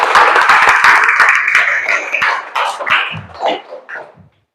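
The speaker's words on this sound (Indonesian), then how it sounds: "Bisa kasih tepuk tangan untuk saudara Syafiq." Classroom applause for a student, a small group of close, individually distinct claps that start loud and thin out into scattered, fading hand claps.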